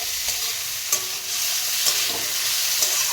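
Bitter gourd sizzles steadily in a frying pan, with a spatula scraping and stirring at regular intervals of roughly once a second over the constant hiss.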